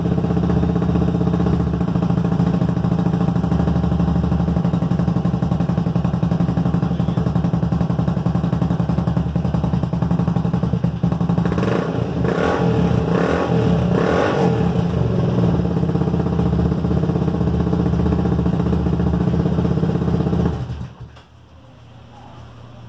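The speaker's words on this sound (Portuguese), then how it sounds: "Agora vamos ver se a moto tá funcionando aí," A Falcon motorcycle engine runs steadily right after its carburetor has been cleaned, a loud, close, continuous idle that climbs briefly in revs before cutting off near the end.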